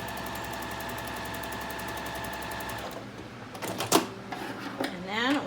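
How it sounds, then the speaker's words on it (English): A sewing machine stitches quilt binding along a marked line, a steady mechanical whir running for about three seconds, then stopping for faint handling clatter and a sharp click. "And then we're going to go to the machine. And we are going to stitch right on the line."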